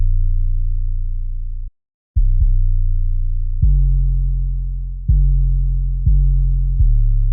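Deep 808 bass drum from a beat: long sustained booming notes with slow decay, a brief gap, then several pitched hits at shifting pitches, loud and alone.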